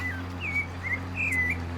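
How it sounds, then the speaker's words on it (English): Several bright bird chirps and short whistled calls ring out in a springtime Farming Simulator field, layered over a steady low tractor engine hum, with no talking. "Birds are out"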